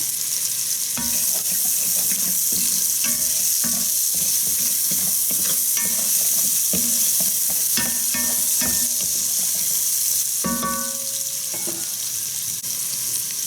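Minced Vidalia onions fry in a hot pan, a steady close sizzle running throughout with scattered stirring scrapes and clinks of a utensil against the pan, no talk.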